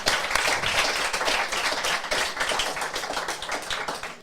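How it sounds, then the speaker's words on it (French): A studio audience breaks into a brief, loud burst of dense clapping to welcome two UTMB 2023 trail runners, keeping it steady for a few seconds. "faire un tonnerre d'applaudissements pour Mathieu Blanchard et Alix Noblat"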